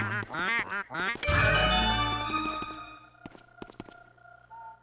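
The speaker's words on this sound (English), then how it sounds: "They sound like ducks!" Ghosts in the video game Luigi's Mansion give a run of nasal, duck-like quacks, followed by a bright chiming, sparkling effect and sharp clicks fading out.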